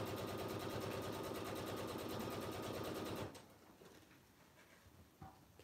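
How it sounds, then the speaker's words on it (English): A sewing machine stitches a half-inch seam around fabric for a pocketed binder cover, running in a steady rapid whir for about three seconds before stopping, leaving only faint handling noises. "So I'm going to go ahead and sew all the way around"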